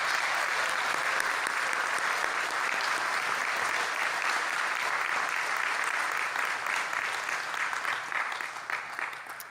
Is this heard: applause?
yes